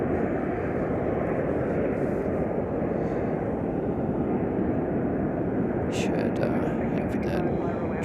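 A Boeing Dreamliner airliner passes at Chicago O'Hare, a steady broad jet roar that holds level throughout, with faint chatter near the end.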